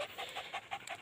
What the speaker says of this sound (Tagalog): Napakalupit tong aso.